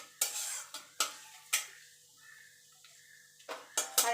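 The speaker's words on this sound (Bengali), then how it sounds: "তেলটা গরম হয়ে গেছে, দিয়ে দেবো 5 ফোড়ন" Panch phoron spices fry in hot oil while a spatula scrapes and knocks against the pan in sharp intermittent clinks over a faint steady sizzle, with no talking.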